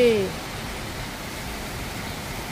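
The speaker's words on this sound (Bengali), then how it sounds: "জোর বৃষ্টি হচ্ছে।" Heavy rain pours in a steady, dense broadband hiss that holds evenly to the end, with a brief voice fading out in the opening moment.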